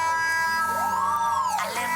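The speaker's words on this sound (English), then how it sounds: "Speakers across the capital blared sirens and a spoken warning of the quake." Earthquake warning sirens blare from public loudspeakers across Mexico City, a steady wailing tone that rises and falls in a slow arc, sounding loud and continuous with no voices.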